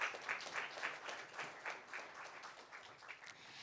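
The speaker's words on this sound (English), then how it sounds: "Let's have a huge round of applause for her." Applause rises from a conference audience as a moderator comes on stage. The clapping is fairly faint and distant, rising and falling in soft uneven waves.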